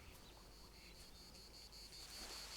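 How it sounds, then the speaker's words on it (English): Insect buzzing comes from bees in an oak tree in the video game Vintage Story: a steady, fairly faint high drone with soft pulsing that holds throughout, with no voices. "Wait, there's bees."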